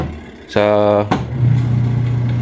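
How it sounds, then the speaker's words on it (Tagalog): Washing machine motor on a discarded machine under repair, a low steady hum that starts up and keeps running, preceded by a short harmonic buzzing tone and a click, with a voice speaking briefly nearby. "Yan, tumunog ulit. Ibig sabihin okay yung motor, gumagana."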